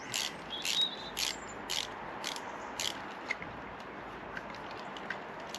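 Ratchet clicking in short bursts while tightening a bolt on a Volvo XC40 engine during a spark plug replacement, several quick clicks fairly close with pauses between.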